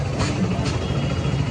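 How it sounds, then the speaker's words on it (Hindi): A Hero Splendor BS6 motorcycle engine runs after being fitted, a loud steady low rumble heard close up with no break. "अब हम इसको स्टार्ट करके आपको इसकी आवाज़ भी सुनाएंगे।"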